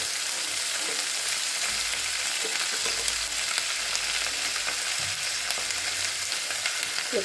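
Cauliflower florets lightly frying in a pan for chili cauliflower, a steady dense sizzle running throughout with occasional soft stirring scrapes, close and continuous with no talk.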